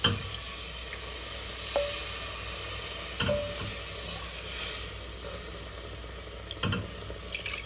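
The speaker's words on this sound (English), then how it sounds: "Now I'm going to add some stock." Stock poured into a hot roux sizzles steadily with a soft liquid wash and light stirring, a continuous moderate hiss broken by a few faint clicks and scrapes.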